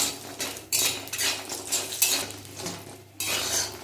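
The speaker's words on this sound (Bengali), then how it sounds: "তা লাল লাল করে ভেজে নিচ্ছি" Biuli dal bori, lentil dumplings, fry in a pan while a metal spatula scrapes and clinks against the pan in short bursts over a soft sizzle, close up, no talking.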